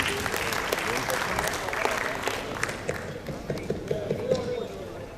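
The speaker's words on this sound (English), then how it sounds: "Can I have a round of applause for Mr." Applause from a tech summit audience at BITS Pilani in Goa greets a speaker, a steady dense patter of clapping with talk and crowd murmur mixed underneath.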